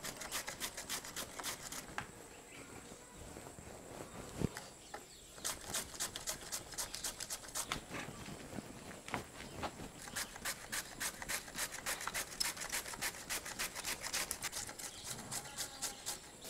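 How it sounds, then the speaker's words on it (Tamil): Cabbage is shredded on a hand grater for vegetable fried rice, with quick, rhythmic rasping strokes in bursts and a brief pause near the middle. "முட்டைக்கோஸ் கேபேஜ் வந்து நல்லா துருவி எடுத்துட்டோம்"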